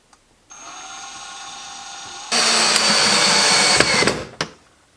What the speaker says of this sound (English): And then you install your screws. Electric drill, and this is installed.